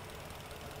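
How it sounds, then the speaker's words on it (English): A car engine fitted with a STAG timing advance variator runs at a steady idle, a continuous faint hum with no breaks and no talking. "So right now the engine is working"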